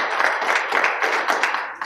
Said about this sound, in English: let's all give him an applause and our love for what he's doing.